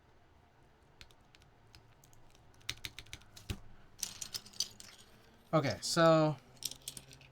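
Keys clack on a mechanical keyboard fitted with GMK Stealth keycaps, scattered bursts of taps that thicken midway, while a person speaks briefly and a louder fluttering noise breaks in near the end.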